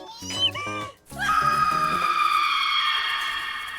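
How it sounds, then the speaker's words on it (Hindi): A frightened girl's high, sustained scream in a Hindi-dubbed anime, rising in after a few short clipped sounds and holding loud and steady for nearly three seconds with no talk. "तुमने अभी अभी किसी के चिल्लाने की आवाज सुनी?"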